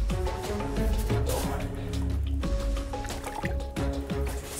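A large lake sturgeon released back into the St Croix River, Minnesota, with wet splashing, sloshing and dripping close by in bursts over several seconds.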